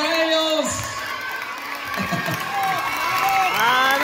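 Audience at a huapango dance contest in Aquismón cheers and applauds the placed couples, a loud continuous crowd roar with whoops and clapping, while an announcer's amplified voice talks over it.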